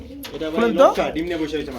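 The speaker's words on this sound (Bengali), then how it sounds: "এটা লক্কা কবুতর ব্ল্যাক কালার" Black Lakka pigeons at a pigeon sale give soft, low cooing under a man's close, steady talk, lasting a couple of seconds.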